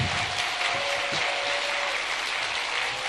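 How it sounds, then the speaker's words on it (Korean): An audience at a church youth business program claps in a dense, sustained round of applause, steady and full throughout with no break or voices. "다시 한 번만 더 박수를 크게."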